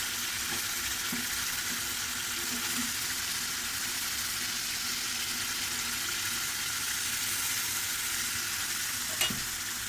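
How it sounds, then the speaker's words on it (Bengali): Spices sauté in a hot pan, giving off a continuous even sizzle and fry at moderate loudness, with faint stirring scrapes and a small clink near the end. "একটু কষিয়ে নিই"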